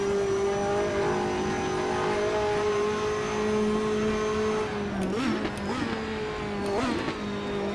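Race cars drive in the Assetto Corsa video game: a steady engine drone with a sustained tone, then several quick shifts and revving pitch changes near the end, with no speech.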